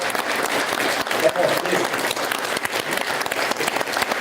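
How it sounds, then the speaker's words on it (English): An audience at a space payload handover ceremony claps steadily in sustained, dense applause, with a few voices mixed in beneath the clapping. "Can we have a huge round of applause for the VELC team"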